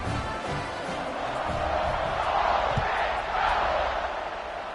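Stadium crowd in a college football video game, with a steady wash of roar and cheering swelling louder in a couple of surges, a low thump partway through, continuous and fairly loud throughout.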